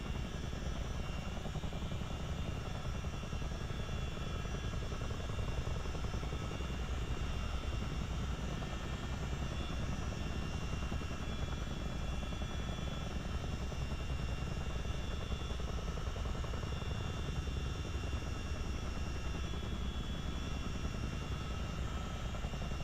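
A CH-47D Chinook helicopter in Microsoft Flight Simulator drones continuously during a low approach, with a loud, steady rotor and engine roar that holds at an even level throughout.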